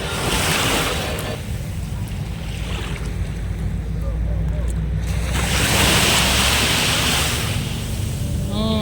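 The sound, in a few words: sea waves on Thailand island beach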